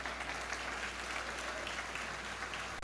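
A church congregation applauds Jesus during a sermon, an even, continuous wash of clapping from many people, moderately distant and steady throughout without speech over it.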